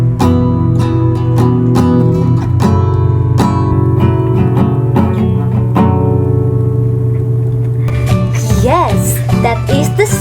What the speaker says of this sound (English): that is the sound of a guitar